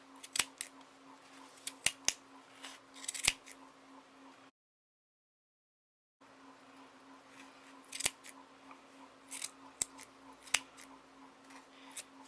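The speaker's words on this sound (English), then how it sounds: "take your scissors and cut the loop" Scissors snip through a yarn loop to free a handmade pom-pom, giving sharp, close, irregular cuts that come in small bursts, then a brief dead silence, then more snipping over a faint steady hum.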